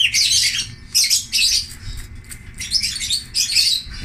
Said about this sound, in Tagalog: Ganyan lang kung kadali magpaligo ng ibon.